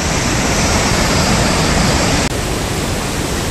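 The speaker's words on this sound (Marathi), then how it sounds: "सुंदर असा धबधबा" A full, heavy waterfall at the Dhareshwar Shiva temple near Patan roars steadily and loudly up close as a dense wash of rushing water, with a brief dip just past the two-second mark.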